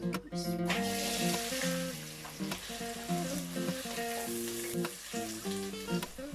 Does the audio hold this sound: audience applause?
no